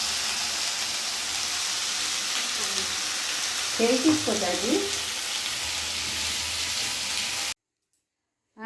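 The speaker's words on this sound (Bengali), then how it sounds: "একটু আলু ভাজা করে নিচ্ছি" Potatoes fry in a pan with a continuous close sizzle, broken by a brief stirring scrape and a short spoken question midway before the sound cuts off.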